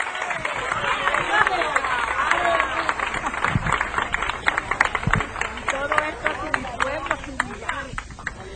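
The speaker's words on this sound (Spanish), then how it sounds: "Un aplauso grande, hermano, fuerte." A church congregation claps during a service, with a sustained patter of applause and scattered voices and murmurs around it.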